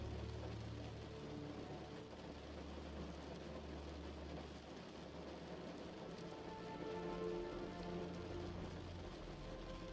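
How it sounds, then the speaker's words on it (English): Soft, steady rain patters against a window, a faint, even hiss of droplets with a low background rumble and no pauses. "every hypnotic raindrop that rolls down your window draws your eyes down further"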